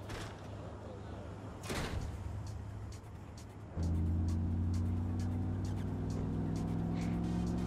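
Van driven in the video game Agents of Mayhem, starting up with a thump then a steady loud engine drone with humming tones, preceded by muffled game noise and a brief door-like slam.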